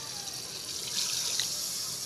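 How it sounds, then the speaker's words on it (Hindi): Water poured into a pot of fried potatoes before rice is added, a brief, steady splashing trickle that sounds close and continuous with no one speaking. "अब मैं इसके अंदर डालूंगी पानी,"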